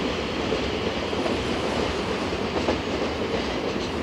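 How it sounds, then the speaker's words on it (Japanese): A train rolls along at Imamiya-Ebisu station on the Nankai line with steady rumbling and faint clickety-clack of wheels, a continuous loud mechanical drone with no voices. "まもなく2番乗り場に電車が到着します。"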